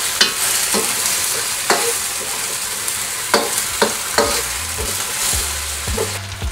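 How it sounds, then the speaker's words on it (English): Strips of black pepper beef and peppers sizzle loudly in a hot pan, with a steady fry hiss broken by several sharp scraping tosses and clanks of the utensil against the pan, no one talking. "the meat and the peppers. And give it a toss."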